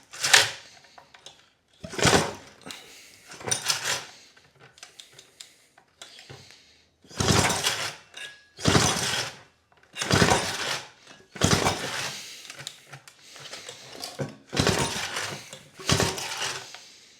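A Victa Power Plant 125 two-stroke go kart engine being pull-started: a series of about nine loud ratcheting rope pulls, each a short whirring burst separated by pauses, with no sign of the engine catching.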